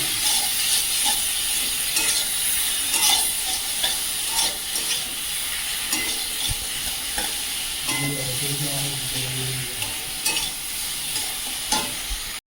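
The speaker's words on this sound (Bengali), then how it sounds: "চিংড়ি মাছগুলো দিয়ে দেবো দিয়ে সঙ্গে ভালো করে কষিয়ে নেবো" Shrimp coated with salt and turmeric frying and being stirred in a pan, a loud constant sizzle with repeated scraping strokes throughout and a brief low hum near the end.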